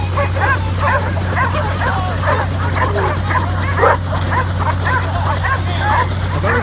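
Many working trial dogs bark and yip in a rapid, overlapping chorus at a UK working trials event, loud and continuous over a steady low hum, with voices faintly mixed in.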